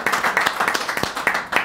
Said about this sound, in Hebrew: מגיע לו כפיים!